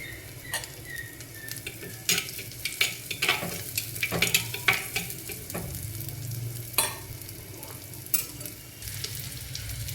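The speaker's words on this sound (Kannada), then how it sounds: "ಶುಂಠಿ ಬೆಳ್ಳುಳ್ಳಿ ಜಜ್ಜಿಟ್ಕೊಂಡಿದ್ನಲ್ಲ ಅದನ್ನ ಇವಾಗ ಒಗ್ಗರಣೆಗೆ ಹಾಕ್ಕೊತಿದ್ದೀನಿ" Ginger and garlic sizzle steadily in tempering oil close by, with scattered sharp pops and clinks of a utensil stirring in a pan.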